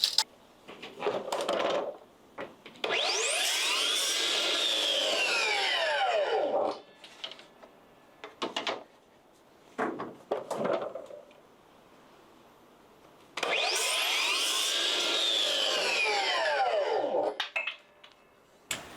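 Wood pieces for an internal door jamb are cut with a power saw: two long, loud, whining cuts that spin up, bite through and wind down, separated by quieter handling clatter.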